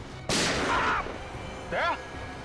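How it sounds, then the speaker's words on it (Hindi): One sharp, loud gunshot cracks out and rings briefly in a Hindi TV crime drama scene, followed a moment later by a short vocal sound. "सर गोली चली है।"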